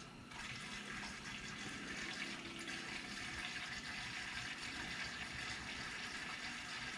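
Kerosene pours steadily from a container into a kerosene heater tank, a faint continuous liquid trickle and gurgle heard alone.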